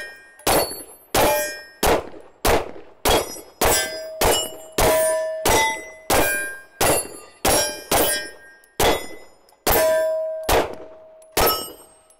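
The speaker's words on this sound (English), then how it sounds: "Let's shoot the gun a little bit and see how we do." A Sig P320 X5 pistol with a Sig Romeo1 Pro red dot is fired at the range. About fifteen sharp, loud reports come in a fairly steady rhythm, and several carry a short metallic ring after them.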